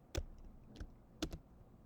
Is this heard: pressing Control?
yes